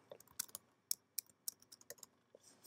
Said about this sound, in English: So I'm going to type in Final Cut